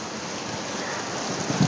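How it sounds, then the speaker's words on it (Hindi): Steady rain falls outside, a dense even hiss of drops on surfaces filling the short clip at moderate level, with a few slightly louder drips near the end. "देखो कैसे बारिश गिर रही है बाहर।"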